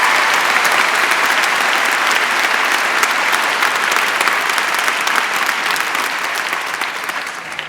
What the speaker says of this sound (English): You deserve a second round of applause